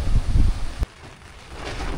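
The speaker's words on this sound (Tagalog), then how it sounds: "maulan-ulan, malakas ang hangin" Rain and strong wind at Maple Nature Camp in Sta. Maria, Laguna, on a foggy, rainy night: heavy, close gusts buffet the microphone for almost a second, then drop abruptly to a steady, softer rain hiss.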